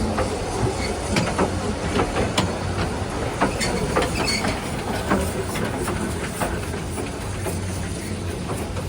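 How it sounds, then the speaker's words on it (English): A small narrow gauge railway train rattles along steadily, with continuous wheel clatter and rumble, frequent sharp clicks and squeaks from the rails, close by and fairly loud. "Narrow gauge railways are awesome."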